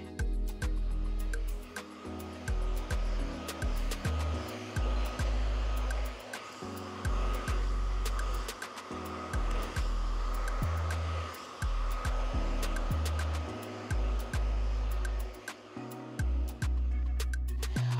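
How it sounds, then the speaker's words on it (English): A hair dryer blow-drying a wig, running steadily for the whole stretch with a constant airy roar and brief dips where the airflow shifts, close to the listener. "I will actually be blow drying her today"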